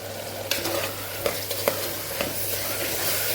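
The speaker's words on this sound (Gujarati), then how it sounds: "બધું સરસ મિક્સ કરી અને સાતળી લેવાનું છે આપણે" Spices with turmeric and red chilli powder being stirred and sautéed in a pan for moraiya potato khichdi, a steady close sizzle broken by several sharp spoon scrapes and clinks against the pan, with no talk.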